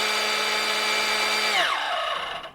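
Bosch GBH 187-LI cordless hammer drill motor whining at a steady pitch, then winding down with a falling tone before stopping, close and loud with no voices.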